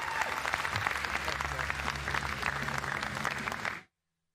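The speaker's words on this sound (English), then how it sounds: "Ladies and gentlemen, round of applause for Joshua the Killer Filler." Audience applause at the 2021 World Pool Championship final, with steady crowd clapping and a low hum underneath, cutting off abruptly near the end.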